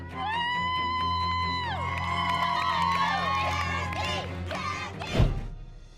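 A crowd at a dance competition cheers and whoops loudly over sustained music-like tones, ending in a sharp thump near the close.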